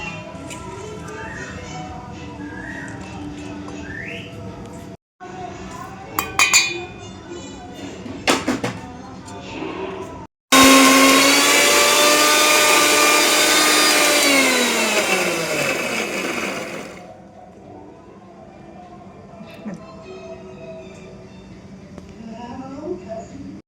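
Electric mixer grinding a chutney of shallots, green chilli and salt: a loud, steady whirring roar of about six seconds that winds down with a falling pitch, with kitchen clatter and talk before and after it.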